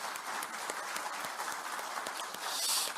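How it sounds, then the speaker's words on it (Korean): Audience applause at a Korean political event, acknowledging President Lee Jae-myung: a dense, steady wash of many hands clapping at moderate distance, holding evenly for the whole stretch and swelling slightly near the end. "고생하신 이재명 대통령께 큰 박수를 부탁드립니다."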